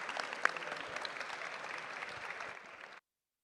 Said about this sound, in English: So can we give them a round of applause, everyone?